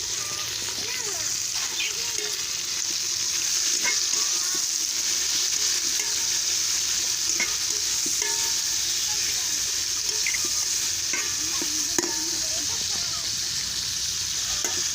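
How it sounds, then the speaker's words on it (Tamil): Onions and tomatoes fry and are stirred in a pan for chicken biryani, a steady bright sizzle running throughout with occasional scraping clicks of the spoon, fairly close. "வெங்காயம் நல்லா செவக்க சுருள வதங்கின பின்னாடி தான் தக்காளி வந்து சேர்த்துருக்கேன்"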